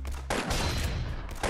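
Gunfire in the Roblox shooter Arsenal: a quick, dense rattle of shots in short bursts, moderately loud and close, with a brief gap before the firing resumes.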